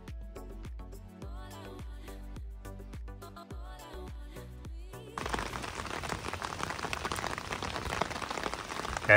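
After a few seconds of melodic music, heavy rain pours down in a flooded barangay in San Marcelino, Zambales, a loud, dense, continuous patter that holds steady to the end.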